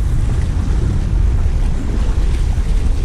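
Steady, loud roar of ocean surf and wind gusts at the seashore during shore jigging, a continuous rushing wash with heavy wind buffeting on the microphone and no talk.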